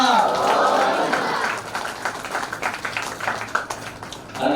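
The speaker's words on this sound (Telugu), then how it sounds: "చప్పట్లండి." An audience at a devotional gathering claps in a sustained burst of applause that thins into scattered claps, with people talking over and through it.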